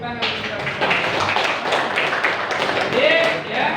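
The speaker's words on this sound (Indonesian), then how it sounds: "Tepuk tangan kita." A classroom audience at a vocational high school in Setu claps together after a lesson on marriage, a brisk patter of hands mixed with chatter and a voice speaking over it.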